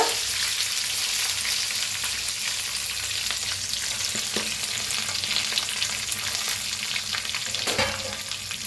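A tempering of curry leaves, asafoetida, cashews, almonds, peanuts, onion and green chilies frying in hot oil, heard as a constant close sizzle with a few sharp stirring clicks.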